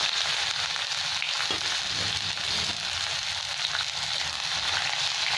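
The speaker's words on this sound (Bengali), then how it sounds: "পেঁয়াজটা খুব ভালো লাল লাল করে ভেজে নেবো বেরেস্তার মতো।" Sliced onions fry in hot oil with cinnamon sticks and peppercorns, a steady, dense sizzle with faint crackling, close and continuous with no talk.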